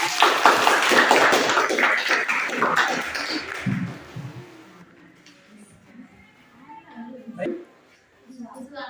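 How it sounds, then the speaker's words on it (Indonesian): A classroom of schoolchildren breaks into loud, dense applause with some voices mixed in, lasting several seconds before fading into quieter room noise, scattered sounds and a few faint voices. "tepuk tangan untuk dia"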